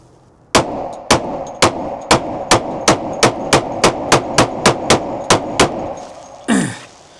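Smith & Wesson M&P 10mm pistol firing PPU ammunition: about fourteen loud, sharp shots in a steady, fairly quick string, each with a short ringing tail, followed by a brief rustling clatter at the end.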